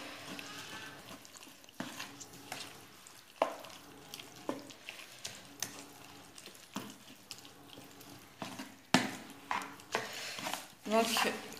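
Vegetables being stirred together in a bowl for a meatless oven-baked dish, giving intermittent clacks, scrapes and wet knocks close by, with quiet gaps between strokes.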